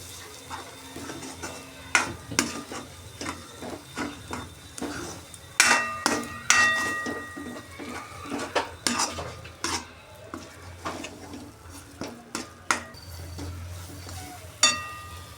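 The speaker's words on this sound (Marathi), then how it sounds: "वाटण चांगले आपल्या मसाल्यात परतून घ्यायचे आहे." Ground spice paste sautéed in a pan for lasuni methi, a spoon repeatedly scraping and knocking against the pan with sharp clinks over a soft background sizzle, close and irregular, with no talk.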